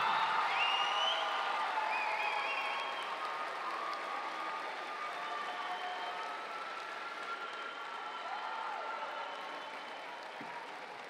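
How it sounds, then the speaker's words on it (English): Sustained audience applause fills a commencement ceremony at a community college, a dense steady wash of many hands clapping that begins loud and slowly eases, with faint whistles and cheers scattered through it and no speaking. "giving them a round of applause"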